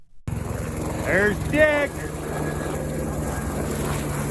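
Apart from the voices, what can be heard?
helicopter flying low overhead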